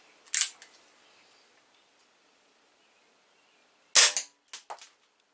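A Remington 1875 air pistol fires a single sharp, close shot in a quiet room. Later a second loud crack comes, followed by a few short clicks.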